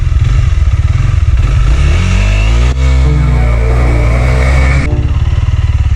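A Honda CRF 300L dirt bike engine roars loudly and close as it launches off the start, the revs climbing and shifting through steady, rough-edged pulses.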